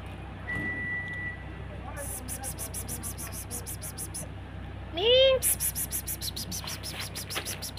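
A street cat gives a short rising meow near the middle, fairly close, among other faint cat calls, while a person talks and rhythmic clicking sounds run through the scene.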